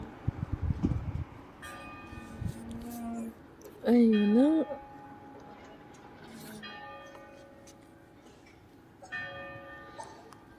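Several ringing bell tones sound one after another in the middle distance beside a river, with a brief voice and a loud swooping tone partway through.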